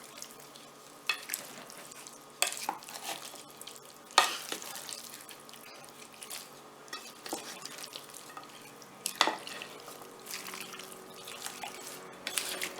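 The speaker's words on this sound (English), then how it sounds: "the oil and green seasoning is going to get that mixed in well over the meat." Raw chicken being mixed by hand with oil and green seasoning for Jamaican curry chicken, giving close, wet squelching and sticky slapping sounds in irregular bursts with no talking.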